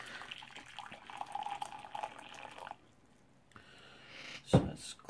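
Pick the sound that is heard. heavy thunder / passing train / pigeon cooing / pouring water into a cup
pouring water into a cup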